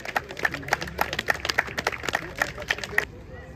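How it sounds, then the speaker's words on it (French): Students clap for their coach in a room, a loose group applause of sharp, uneven hand claps over a murmur of voices, stopping abruptly near the end. "Applaudissez notre coach"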